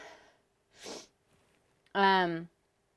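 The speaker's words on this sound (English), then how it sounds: "I swear I'm going to sneeze." A single loud sneeze near the microphone, preceded by a quick sniff and a sharp intake of breath, with short gaps of quiet in between.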